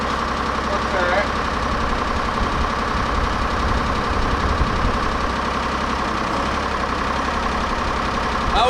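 A 1984 GMC General truck engine idles loudly nearby with a rough, knocking rumble. Voices talk over the steady running.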